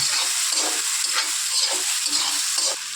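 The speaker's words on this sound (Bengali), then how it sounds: "আদা বাটা এইগুলো দিয়ে ভালো করে একটু নেড়ে নেব" Chili and ginger paste frying in hot oil for chicken chotpotari, loud continuous sizzle and hiss with a few soft stirring scrapes, close up, no speech.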